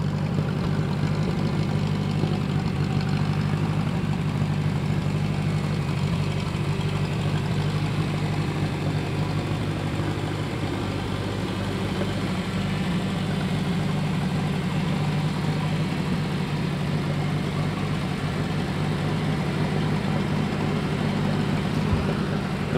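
A Kubota L2501 tractor with a never-rebuilt engine idles steadily and close at a low, even rumble with a slight dip in pitch midway, with no voices.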